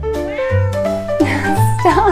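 A cat meows repeatedly and loudly, close by, with wavering drawn-out cries over a steady low hum, while a person speaks briefly during a live stream.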